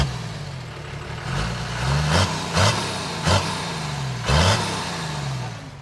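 A fully rebuilt Toyota Land Cruiser with a 12HT diesel and 5-speed manual, close up, idling with a rough clatter and then revved in four or five quick throttle blips that swell and fall back.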